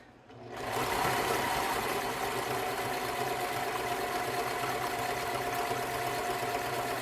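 A sewing machine runs fast and steadily, a continuous close whirring drone of rapid stitching that starts abruptly and holds at an even pace with no voices.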